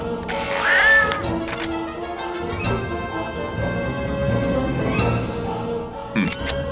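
An angry kitten in the 2002 video game No One Lives Forever 2 gives several drawn-out, whining meows and caterwauls, fairly loud, with other game sounds around them.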